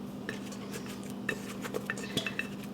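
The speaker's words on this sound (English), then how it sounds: "We're now going to take the egg whites and mix them in with our batter." Egg whites are folded into cake batter for a pineapple upside-down cake, with soft scraping strokes of a utensil and light clinks against the mixing bowl over a steady low hum, quiet and close.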